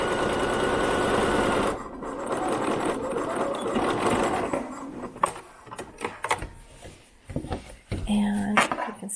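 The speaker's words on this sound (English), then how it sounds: "that sews up the bottom of my bag" Sewing machine running in a steady buzzing burst while stitching the bottom seam of a cotton gift bag, then stopping, followed by scattered clicks and handling sounds of fabric and parts.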